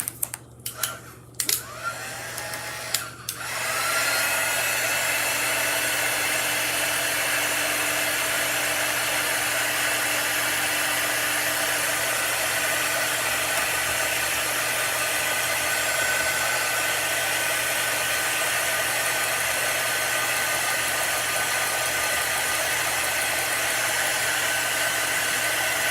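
A hair dryer blowing on a freshly painted spice jar lid, a few short bursts and clicks as it starts, then a loud, steady whirring hum that runs on unbroken for over twenty seconds, no talking.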